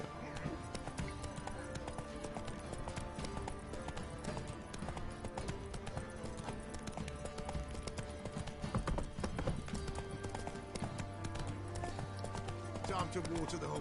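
Roach the horse gallops in The Witcher 3 game, rapid rhythmic hoofbeats thudding continuously at a steady pace, with a voice talking over it.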